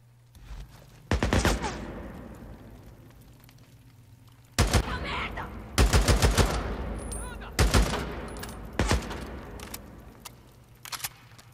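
Repeated bursts of gunfire in the PS4 game Days Gone, loud sharp volleys and single shots spaced across the stretch with fading echoes between, over a low steady background hum.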